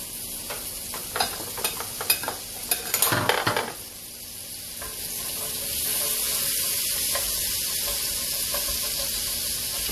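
Chopped onion is added to a hot oiled pan on the stove and stirred, with scraping and clatter at first, then a steady frying sizzle that settles in and continues, close and fairly loud, with no talking.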